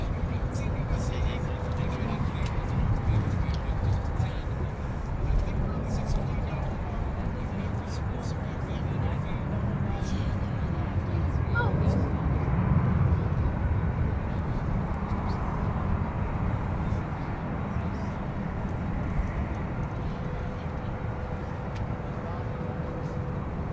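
A jet airliner taking off from runway 17 at Minneapolis–St. Paul airport gives a long, steady rumble that swells and holds throughout, with an air-traffic radio voice speaking over it.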